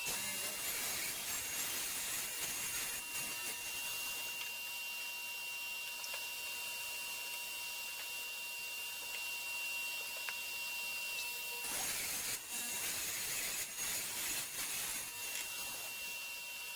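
A saw cuts wooden legs to size for a farmhouse end table, giving a faint, steady rasping that pauses briefly about two-thirds of the way through and then resumes.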